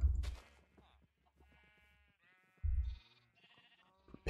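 Two short, low sheep bleats in Minecraft sound a few seconds apart, with quiet game sounds and faint talk in between.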